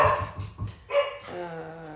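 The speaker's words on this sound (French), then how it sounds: "elle aboie encore une fois" A dog barks indoors a few times in short, close yips, followed by a longer whining, tonal cry.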